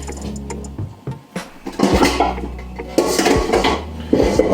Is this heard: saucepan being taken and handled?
yes